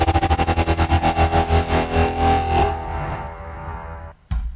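A plain electronic synth in a tech house project plays without a sound-shifter effect, a loud distorted tone pulsing quickly and evenly, then holding as a sustained buzz that breaks off near the end.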